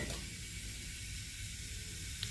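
Bay leaf and cumin seeds sizzle in hot oil in a pan, a soft continuous hiss and crackle heard close and fairly quiet, with no talking.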